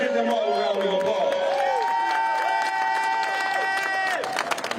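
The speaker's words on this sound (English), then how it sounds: "Let's give them all a round of applause." A street crowd at an Akron justice march cheers and shouts with scattered clapping, loud voices rising and falling close by in a lively outdoor mix.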